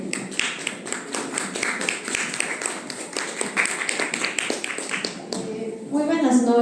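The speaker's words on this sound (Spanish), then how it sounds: "Un fuerte aplauso, por favor." An audience at a round-table event applauds, a steady patter of many hands clapping for several seconds before fading, with a voice starting at the end.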